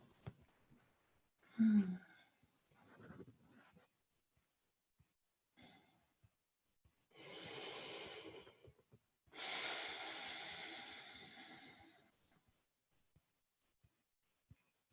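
Slow, deep breaths during a trauma-informed yoga class: a few short breathy sounds, then two long, audible exhales, the second fuller and longer, close and fairly quiet amid silence.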